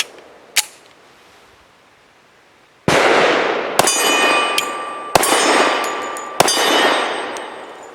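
Tisas Regent PC45 .45 pistol firing Hornady Critical Defense 185 grain rounds outdoors: one faint early crack, then four loud sharp gunshots at roughly one-second intervals starting near three seconds, each with a metallic ringing tail.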